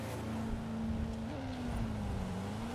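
Street car of over 1,000 horsepower launching down an airstrip drag strip in Forza Horizon 5, a loud sustained engine roar holding a steady high rev with slight pitch shifts, alone without talk.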